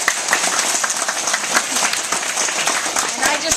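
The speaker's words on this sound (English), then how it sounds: "let's have a round of applause for Pete" A school audience applauds to welcome a guest speaker, dense clapping from many hands that holds steady and close, with voices murmuring underneath.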